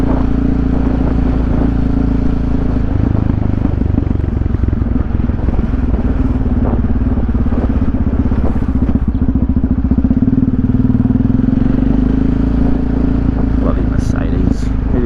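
A motorcycle engine drones steadily while riding in winter, with constant rumbling road and wind noise and a few faint clatters near the end.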